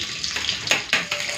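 Fish frying in oil in a home kitchen pan, heard close as a steady bright sizzling hiss broken by a few sharper crackling bursts, with no voices over it.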